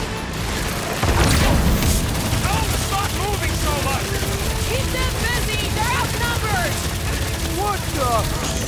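Fireworks go off in the Marvel's Guardians of the Galaxy video game: a loud boom, then steady crackling blasts and a dense, continuous barrage under game music and character voices.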